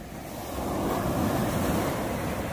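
Sea waves and surf rolling onto a beach at Alanya, a steady broad wash that swells slightly and holds constant, with wind noise buffeting the microphone and no voices.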